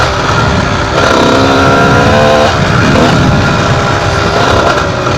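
A 125cc enduro motorcycle runs at a modest pace on the road, its engine drone loud and close with rising and falling pitch as the rider works the throttle, wind rumble underneath.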